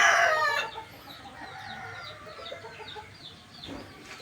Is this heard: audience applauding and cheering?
no